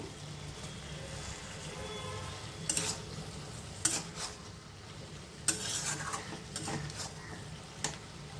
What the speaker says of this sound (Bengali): ভালো করে নাড়িয়ে আরো 5 মিনিটের জন্য ঢেকে দিচ্ছি।